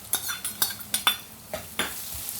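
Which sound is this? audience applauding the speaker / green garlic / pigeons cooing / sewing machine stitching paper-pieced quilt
green garlic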